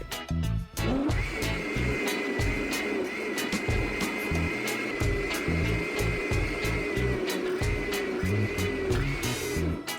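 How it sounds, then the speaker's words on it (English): A blender whirs steadily and loudly for the full ten seconds, puréeing Haitian epis seasoning with paprika, a constant motor drone with a high whine and churning texture throughout. "I'm gonna go ahead and blend this out again."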